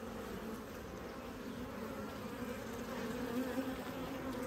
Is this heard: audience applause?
no